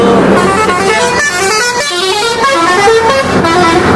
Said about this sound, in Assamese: বাছ মানে ইমান আহে, মানে ইমান হাল্লা হয়, একো মানে চাউণ্ডে নাপাব আপোনালোকে